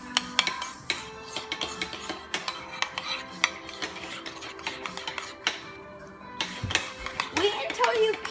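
Fluffy slime made with shaving cream is stirred in a bowl, giving a run of quick close clinks and scrapes of a utensil against the bowl while people talk over it.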